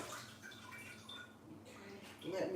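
Running water splashes over a pot lid being rinsed in a kitchen sink, a steady faint wash with a brief louder splash at the end.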